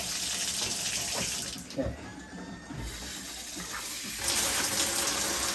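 A WaterPik Power Pulse double shower head, just installed, runs steadily and hisses as water streams onto a floor. A person briefly speaks partway through, and the spray grows louder near the end.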